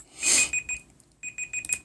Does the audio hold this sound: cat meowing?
no